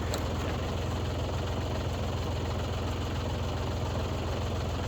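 A tractor engine idles steadily near the microphone, driving a County Line three-point wood splitter, with a low, constant rumble and no change in pitch or pauses.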